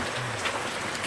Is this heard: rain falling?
yes